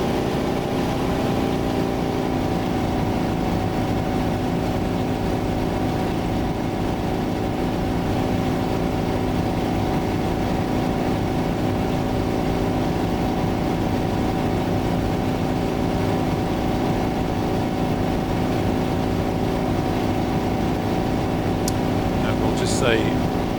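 Piston engine of an A-1 Skyraider in Microsoft Flight Simulator throttled back after takeoff from Telluride, a steady low droning hum with constant tonal lines, with a voice talking over it.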